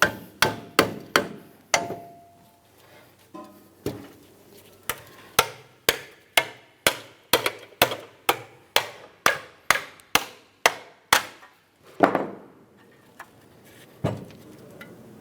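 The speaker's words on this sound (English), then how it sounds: "We'll use our hammer to break it free." Steel hammer blows knock a brake backing plate off the steering knuckle of a 2003-2007 Honda Accord, a long run of sharp metallic strikes landing in a steady, fairly quick rhythm, close and loud, with a short scraping pause near the end.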